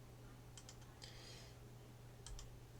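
Computer keyboard typing, a few quiet isolated key clicks in small clusters over a low steady electrical hum, faint and with no talk.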